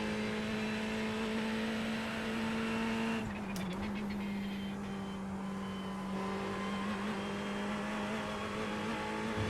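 A racing car in a sim racing game played on a Moza direct drive wheel holds a steady, buzzing engine note with a few sharp clattering knocks partway through, then dips and settles back into a constant drone.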